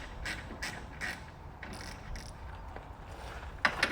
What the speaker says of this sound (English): So you're going to need a 10mm socket. Take out these little bolts here.